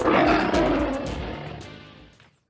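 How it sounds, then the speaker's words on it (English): A lion roars in the Roman Colosseum setting of the video game Catechumen, one loud deep roar that rumbles and slowly fades out over about two seconds. "You'll hear music and the roar of a lion."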